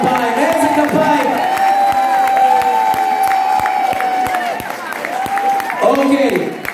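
A Purim party crowd at a community center claps and cheers loudly, with whoops and children's shouts mixed into steady rhythmic applause, and a voice speaking over the noise.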